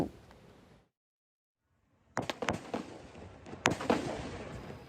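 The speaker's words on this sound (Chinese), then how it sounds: "伫一片的炮声当中，郑成功的海军部队甲荷兰人的军舰伫龙椅门口激烈相战" Cannon fire rings out at a reenactment of Koxinga's naval battle against Dutch warships in Tainan's Annan district. Sharp, fairly distant booms and cracks fall in quick irregular succession after a quiet gap.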